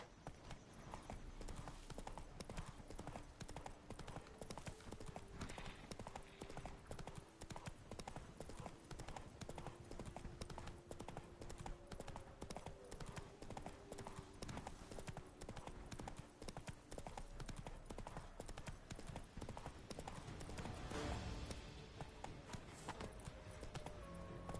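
Roach the horse galloping in The Witcher 3, rapid rhythmic hoofbeats running continuously and close, with faint game sounds underneath.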